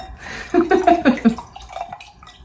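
Liquid poured into a glass at a festive holiday gathering, a short gurgling splash lasting about a second, close and fairly loud, then fading to a light trickle.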